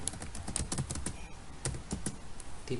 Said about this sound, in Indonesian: ketik lagi beragam tipe